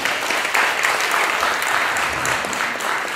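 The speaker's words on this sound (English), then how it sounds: "Give this man a round of applause." An audience gives a round of applause at a music video premiere event, loud dense clapping filling the whole stretch without a break.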